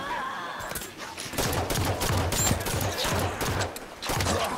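Pistol gunfire in the Halo 5: Guardians video game, with rapid rattling shots and bursts layered over a busy battle din of continuous game noise.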